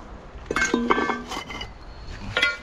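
A metal trowel blade strikes a brick in a few sharp, ringing clinks, two close together early and one more a moment later. The sound is near and fairly quiet, with faint room noise between the hits.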